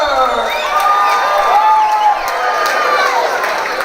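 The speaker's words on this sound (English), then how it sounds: "Give a big round of applause for the challenger, Joel Porter." Crowd cheering and applause at an MMA fight event, a loud, steady wash of shouts and clapping from a large audience filling the whole stretch without pause.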